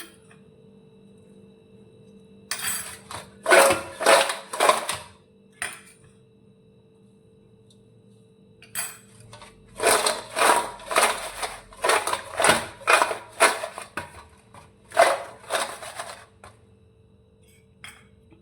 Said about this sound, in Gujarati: આ રીતે આપણે ઉપર નીચે કરી અને મસાલો છાંટીશું અને મિક્સ કરીશું